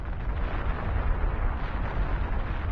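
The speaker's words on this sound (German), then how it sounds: "Eine gigantische Explosion erschüttert die Erde." A massive explosion of the Krakatau volcanic eruption, heard as a loud, continuous, rumbling roar that stays dense and steady throughout, with no voices.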